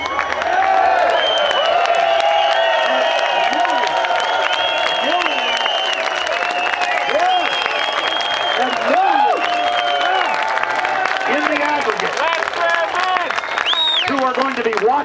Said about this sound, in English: show everybody this huge crowd of people, thousands and thousands